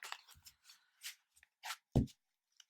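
Tarot cards being shuffled by hand during a reading, heard as soft, intermittent riffling bursts with quiet gaps between them and one sharper snap near the end, close and faint.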